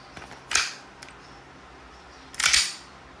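An E&C Glock 19X Gen 5 green gas airsoft pistol fires two sharp, crisp pops about two seconds apart, each with a brief hiss of gas, alongside faint clicks in an otherwise quiet space.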